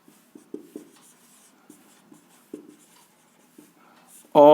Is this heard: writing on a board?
yes